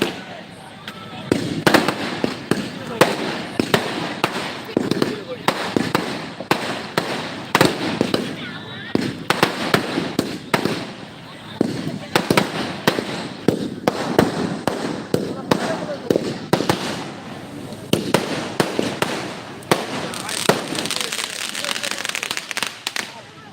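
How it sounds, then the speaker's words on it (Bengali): Fireworks go off at an outdoor stage program, a long run of loud, rapid crackling bursts and pops that come in uneven clusters, with voices heard underneath. "ভীষণ সুন্দর আতসবাজি প্রজ্বলন"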